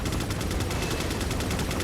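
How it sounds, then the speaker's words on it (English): Rapid gunfire from Resident Evil 4 while shooting at enemies: a steady fast train of evenly spaced shots rattles without a break for nearly two seconds, dense and moderately loud. "just fire on enemies alongside Mike"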